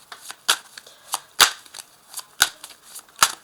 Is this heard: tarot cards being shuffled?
yes